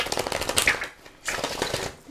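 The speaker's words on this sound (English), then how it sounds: "One more shuffle." Tarot cards are shuffled by hand in two quick bursts, a crisp rapid riffling flutter close up with a brief pause between, no talking.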